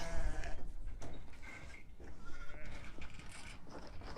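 Ewes bleating on a farm during lambing season, several overlapping calls close by against a noisy outdoor background.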